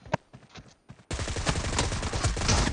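Rapid automatic gunfire in a team deathmatch shooter game bursts in loud and sustained after a second of scattered, fainter shots.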